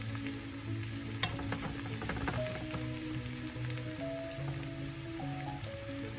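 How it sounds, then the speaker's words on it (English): Garlic toasts in a hot pan with a continuous soft sizzle and light crackling pops, steady and close, with a faint tonal hum underneath and no voices. "This is how you toast garlic."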